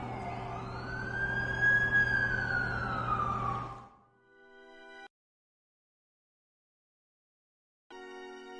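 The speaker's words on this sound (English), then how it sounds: "That's the ambulance I called." Ambulance siren in a Spider-Man video game, a wailing tone sweeping up and down, loud and close, that fades out after about four seconds and leaves near silence.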